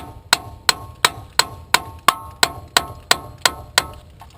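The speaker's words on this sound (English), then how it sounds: "all I have to do is use a hammer and lightly tap right there where you took the bolt out" Hammer lightly tapping the front brake caliper assembly on a 1999-2004 Isuzu Rodeo: about eleven sharp metallic taps at a steady, even rhythm, close and clear with no talking.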